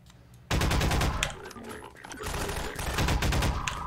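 Enemy gunfire in the shooter game Half-Life 2: sustained automatic bursts start abruptly and rattle on loudly and densely, with brief dips between volleys.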